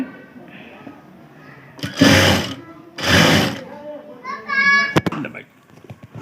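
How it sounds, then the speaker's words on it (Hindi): A sewing machine stitches a folded strip of blouse fabric in two short, loud runs about a second each, followed by lighter clicks, with someone talking between the bursts. "अब हमें इस तरह से इस पट्टी को फोल्ड करके सिलाई करनी है इस तरह से, अच्छी तरह से।"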